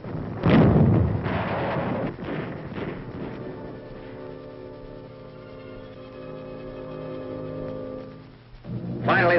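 Fragmentation grenade explosions from 1944 wartime combat footage, a heavy blast near the start, a few smaller thuds after it and a further boom at the end, all over a low droning background.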